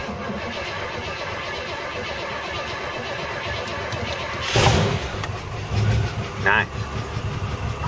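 A Mercedes W123 230 fitted with a fresh battery runs at a steady, close, low idle with a rough mechanical chug, broken by a few loud clunks and a short rise; someone briefly says one word.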